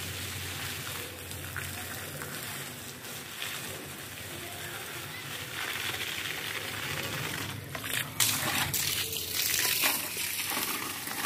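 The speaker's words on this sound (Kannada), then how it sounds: "ಈಗ ನಾನು ಮೇಲೆ ಗಿಡಕ್ಕೆ ನೀರು ಹಾಕುವಾಗ ಕೆಳಗಡೆ ಸಹ ಇದೇ ಪಂಪಲ್ಲಿ ನಾನು ಹಾಕ್ತೇನೆ" A pump-fed hose waters potted jasmine plants on a rooftop terrace, a steady hiss of spraying water pattering on leaves and soil that grows louder and rougher near the end, close and continuous.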